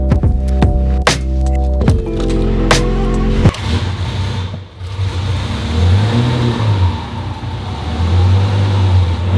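A car engine runs and revs hard in sharp bursts at the start, then settles into a loud, rough idle with a couple of swelling revs. It is up close and no one speaks.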